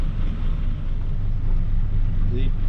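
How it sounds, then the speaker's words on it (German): Two Volvo Penta TAMD71 B marine diesel engines idle together at uneven speeds aboard a boat, giving a steady, dense low rumble with a faint higher whine late on. "Beide Maschinen laufen, allerdings mit unterschiedlicher Drehzahl"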